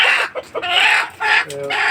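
Native chickens cluck close by in short, loud bursts, with a few higher squawks among them.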